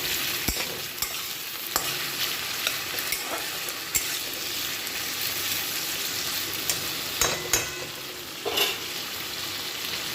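Food fries noisily in hot oil in a home kitchen pan while a spatula stirs it, giving a steady sizzle broken by scraping clinks.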